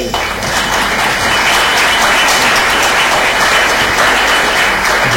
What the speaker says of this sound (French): Bravo, lieutenant, vous pouvez l'applaudir